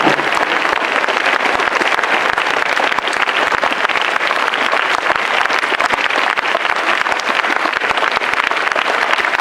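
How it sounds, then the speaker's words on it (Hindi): A school audience claps loudly for two brothers, former students, in dense, continuous applause, close and even from start to finish with no talk over it. "दोनों भाई के लिए एक बार और जोरदार ताली"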